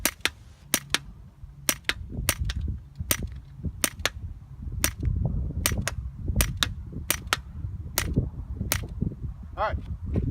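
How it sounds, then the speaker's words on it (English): Sharp, dry snaps from a CO2-powered C96 BB replica pistol modeled on the Battlefield 1 gun, a dozen or more shots at irregular intervals over low background rumble and faint handling noise. "I'm gonna shoot one more time"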